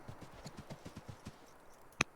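Horse hooves clip-clop in a steady, even rhythm in the strategy video game Old World, moderately close, then fade and end with a single sharp click.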